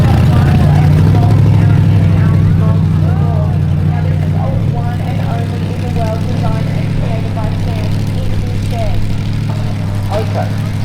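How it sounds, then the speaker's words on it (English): A monster truck show buggy's engine runs at a steady, droning idle throughout, loud and close, with faint voices in the background. "Okay, so we can hear it's got an engine there."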